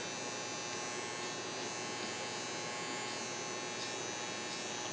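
Electric hair clippers with the blade closed all the way buzz steadily while cutting a neckline during a barbershop taper haircut, a constant close-up drone without pauses or voices.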